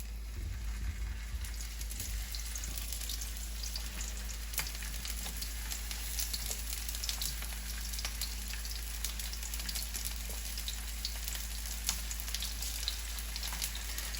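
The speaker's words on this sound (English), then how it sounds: "I have a non-stick pan preheated with some blended oil in it." Squash and zucchini sizzle in blended oil in a preheated non-stick pan, giving a steady, crackling, rain-like hiss with small pops throughout, quiet and unbroken by talk.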